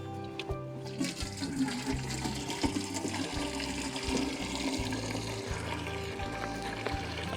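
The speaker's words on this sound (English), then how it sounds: "I need to empty this water butt so I can move it, and I might as well just use up what's in it" Water pouring and gushing steadily out of a garden water butt beside a greenhouse, a continuous splashing flow with low rumbling tones throughout.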